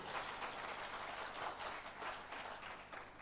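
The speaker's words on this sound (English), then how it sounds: "If we can clap for them," Faint, continuous applause from a conference audience at a resort, an even blur of many hands clapping heard at a distance.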